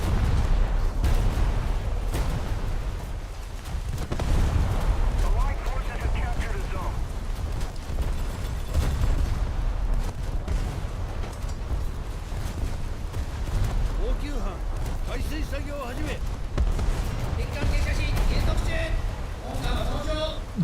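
Naval 5-inch/54 deck guns firing in a naval combat video game, a steady run of booming reports and rumbling blasts under ongoing game noise, with a voice talking over much of it.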